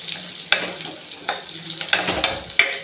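Carrots and other vegetables fry in a pan for idli sambar, a soft continuous sizzle broken by several sharp scraping clacks of a spoon stirring against the pan, close and fairly quiet.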